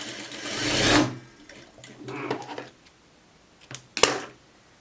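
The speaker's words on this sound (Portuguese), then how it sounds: "Deixa eu passar uma costurinha aqui pra mim poder embanhar" A sewing machine stitches a hem on fabric in three short bursts: a longer run at the start, then two briefer spurts, each separated by near silence.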